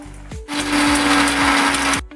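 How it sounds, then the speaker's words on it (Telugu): A kitchen mixer grinder grinds ginger garlic paste in one loud, steady whirring burst of about a second and a half, starting after a short click and spin-up and then stopping abruptly, close by. "అల్లం వెల్లుల్లి పేస్ట్ మిక్సీ పట్టుకుందాం"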